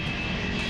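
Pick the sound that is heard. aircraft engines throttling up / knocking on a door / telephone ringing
aircraft engines throttling up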